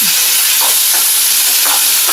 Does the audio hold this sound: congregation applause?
no